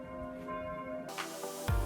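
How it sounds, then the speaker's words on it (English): Church bells ring out at noon in Bad Waldsee, a lakeside town, with sustained overlapping peals carrying through open air. There is a brief thump near the end. "obviously it's 12 o'clock because those bells are going crazy"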